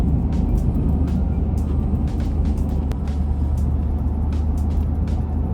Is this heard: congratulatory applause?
no